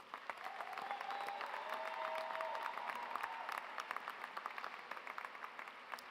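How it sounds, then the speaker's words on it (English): Applause for graduates at a graduation ceremony, a steady wash of many hands clapping from a fairly distant crowd, swelling slightly and then thinning over several seconds, with a few faint voices calling out. "how about a round of applause for our graduates today?"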